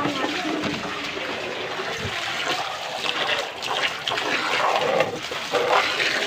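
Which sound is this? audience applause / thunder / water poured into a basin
water poured into a basin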